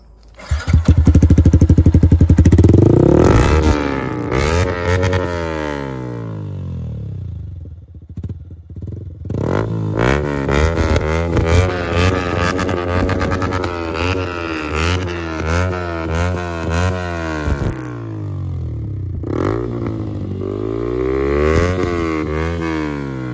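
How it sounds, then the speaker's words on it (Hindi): A Yamaha R15 V3 motorcycle fitted with an Akrapovic exhaust revs loudly up and down close by, rising and falling engine pitch sweeping repeatedly between sharp throttle blips and a rough idle. "जब हम सुनते हैं कि कैसी आ रही है इसके एग्जॉस्ट की वॉइस"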